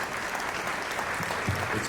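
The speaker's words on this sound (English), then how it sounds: "So a big round of applause to you guys out here in this audience" A seminar audience at a bodybuilding competition event applauds briefly and fairly quietly, a short steady patter of clapping.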